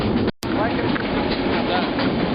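A narrow-gauge mountain train, the Carpathian Tram in Ukraine, rumbling along the rails with a steady rattling clatter, heard from inside, with a brief dropout near the start and voices faintly underneath.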